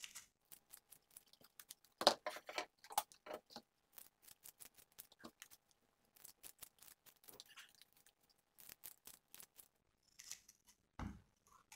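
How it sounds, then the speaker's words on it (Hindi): Scissors snip thin strips of plastic ribbon in quick, crisp close-up cuts, some in rapid clusters and some spaced apart, with quiet pauses between. "इस तरह से हम इसकी बारीक बारीक स्ट्रिप काट लेते हैं।"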